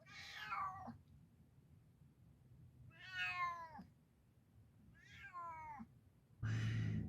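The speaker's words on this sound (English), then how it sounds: "Simon does not like the carrier, so it's a lot of MAOW" Simon the cat meows from inside a carrier, three drawn-out plaintive cries at intervals with quiet gaps between them, close by and alone, followed by a burst of rustling noise.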